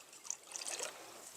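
Warm water poured into a bowl for sourdough bread, a soft steady trickle and splash lasting about a second, faint and close with no speech.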